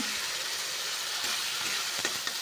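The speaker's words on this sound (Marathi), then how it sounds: "कढीपत्ता आता भाजून झालेला आहे आता मी ह्याच्यामध्ये मसाला टाकून घेते" Masala and curry leaves fry in a pan for an egg amti, producing a loud, steady sizzle with a few sharper crackles and spits near the end.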